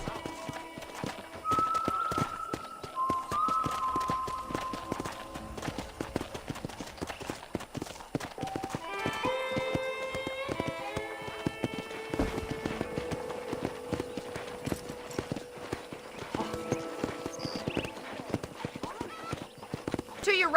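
Steady clip-clop of horse hooves at a trotting pace on a ranch in Red Dead Redemption, with a brief whinny and someone talking over the rhythm.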